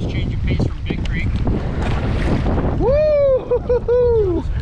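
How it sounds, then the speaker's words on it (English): Strong wind roars and buffets the microphone during whitewater kayaking in the Nolichucky Gorge at high flow. The rush is loud and constant, and a whooping voice cuts through near the end. "And that wind is really hammering down."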